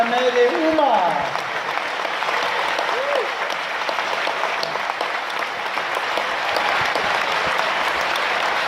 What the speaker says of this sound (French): qu'on applaudisse très fort ce jury, Reda, Joachim, Karel, Mohamed et Oumar.